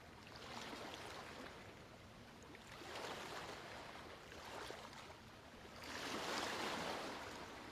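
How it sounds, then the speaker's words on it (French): Soft, distant ocean waves washing in and receding in slow swells, the last surge a little fuller; calm and without voices. "Laisse-toi porter par le bruit des vagues."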